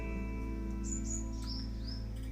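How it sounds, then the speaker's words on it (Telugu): Morning birds chirp in a few short, fairly faint calls over a steady low hum, with no voices. "ఈ బర్డ్స్ చేస్తున్నటువంటి సౌండ్స్ ఇవన్నీ చూస్తే ఎంత హాయిగా ఉందో తెలుసా అసలు."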